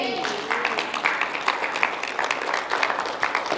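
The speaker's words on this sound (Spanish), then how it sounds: "Un aplauso para Jesús" A church congregation claps together in a lively, rhythmic burst of applause, fairly close and continuous, with voices mixed in beneath it.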